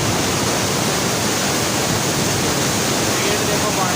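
Water rushing through the Head Munda Branch canal, a loud, dense, unbroken roar heard up close.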